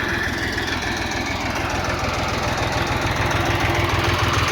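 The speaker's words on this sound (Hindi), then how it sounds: "छोटा ट्रैक्टर है, 30 HP का, उम्मीद नहीं थी लेकिन बहुत बढ़िया चल रहा है" A 30 HP Massey Ferguson TAFE 30 DI tractor pulls a rotavator with about half its blades fitted, giving a loud, continuous diesel throb with steady knocking pulses close by and no talking.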